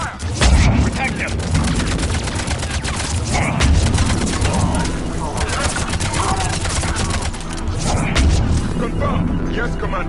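Sustained heavy gunfire in the sci-fi shooter Mass Effect 3, dense rapid bursts and booms crowding the whole stretch, loud and close, with shouted combat voices mixed in.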